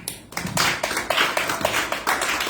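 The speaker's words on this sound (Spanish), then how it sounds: "Dale un aplauso a Cristo, hermano." A church congregation applauds in rhythmic, evenly spaced claps, a steady pulse of hands at moderate loudness after a brief quiet moment at the start.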